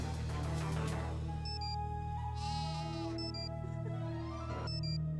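Sheep bleat in a video game, several separate bleats over steady, fairly loud game music.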